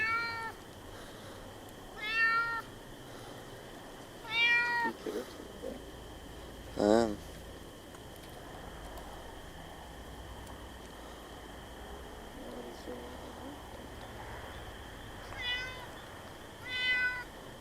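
Several cat meows in short bursts, spread apart with quiet gaps, moderately close over a faint steady hum and some rustling.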